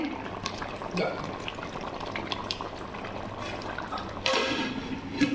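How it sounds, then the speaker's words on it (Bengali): Eggplant slices frying in a pan while curry cooks nearby, a steady bubbling sizzle running the whole time with a few louder spatters and a brief surge near the end, no talking. "এই যে কয়েকটা বেগুন ভাজছি"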